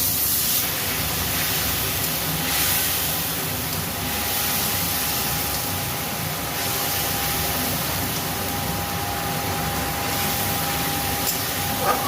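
Salt water poured into a sizzling eggplant and egg curry sets off a loud, continuous hiss and spray of frying that holds steady and close throughout, with no talk.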